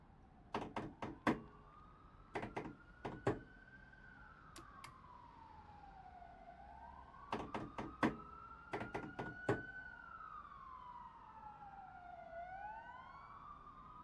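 Emergency vehicle sirens wail across London in the Train Sim Classic game, a rising and falling two-tone siren heard at a distance, punctuated by clusters of sharp clicks from the train cab.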